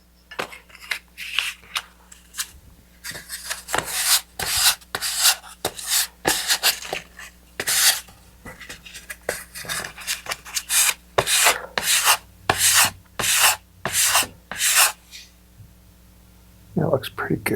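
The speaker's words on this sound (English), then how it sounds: "I'll switch to some finer grit sandpaper to make it nice and smooth" Fine-grit sandpaper rubbed by hand over a small wooden rocket part, a run of short rasping strokes in steady rhythm, close and fairly loud, with brief pauses between bursts.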